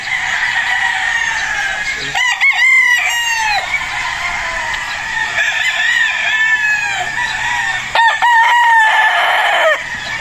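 Gamefowl battle stags on a farm crow repeatedly in long rising and falling calls, with clucking between crows, loud and fairly close.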